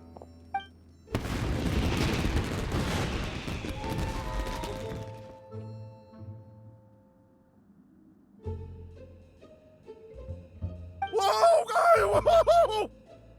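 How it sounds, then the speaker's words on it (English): Loud booming blasts and crackling bursts of fireworks in a video game, a long rumbling stretch followed later by a bright, sparkling burst of whistling pops. "Yoimiya, this is turning into a bit of a fireworks display"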